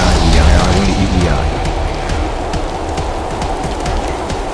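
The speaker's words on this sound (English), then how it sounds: "It started raining." Rain in the physics sandbox game People Playground, a dense continuous hiss of falling drops with scattered pattering hits, loud and close, mixed with other game sounds and faint voices.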